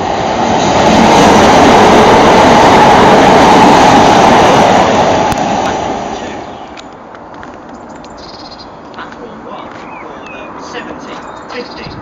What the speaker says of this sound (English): train now approaching platform 1 does not stop here